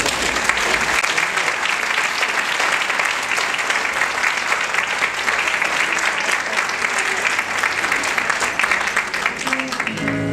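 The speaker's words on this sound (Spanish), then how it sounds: "Un aplauso grande." An audience at a Buenos Aires music night gives loud, sustained applause as a group of singers is called to the stage, dense clapping that holds steady until instruments begin right at the end.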